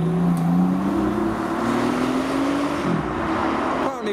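A performance car leaving a car show revs its engine loudly nearby, the pitch climbing steadily over a few seconds amid street traffic noise before easing off.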